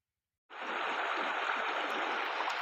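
Irrigation water flows into a millet field, starting abruptly after a short silence and continuing as a steady, close rushing gurgle of running water.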